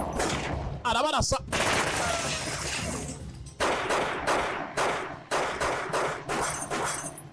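Bursts of gunfire crackle in rapid volleys in a forest scene of a film, loud and close, with brief shouting and a sharp whistle-like sound early on, cinematic in character.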